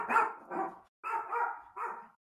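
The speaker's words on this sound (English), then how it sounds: "my dog is getting excited about something outside, and eventually he will run his way out of earshot" A dog barks excitedly at something outside in a quick string of five hoarse barks grouped in twos and threes, moderately close, with no talking over them.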